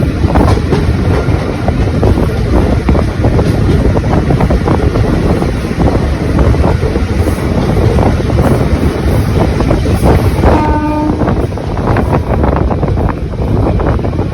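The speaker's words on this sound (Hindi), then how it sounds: "अपनी गाड़ी पता नहीं किस जगह पे चल रही है" A passenger express train runs through darkness on the line toward Bareilly, heard from inside a general coach as a loud, steady rumble with wind rush and rattling, and a brief tonal whine near the end.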